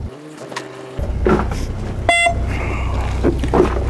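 On a boat fishing offshore for rockfish and squid, a single short electronic signal beep sounds, cutting through a steady low engine and water rumble.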